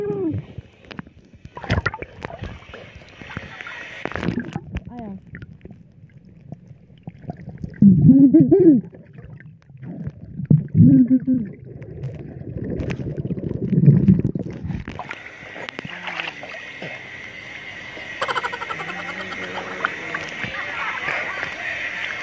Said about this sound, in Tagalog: Sa ilalim ng tubig, pakinggan mo.